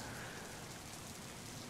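Steady fine rain in the PMDG 777 flight simulator, a soft even hiss of drops with no breaks, faint and continuous throughout.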